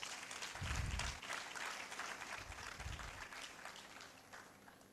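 Applause from the audience at an AI book launch, a broad spread of clapping that runs throughout with a few heavier thumps mixed in.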